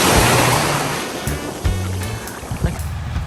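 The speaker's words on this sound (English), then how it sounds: "And look at this beautiful beach." Waves wash onto a Caribbean beach with clear water, a loud, rushing surf that swells and recedes, with low thumps and wind buffeting the microphone.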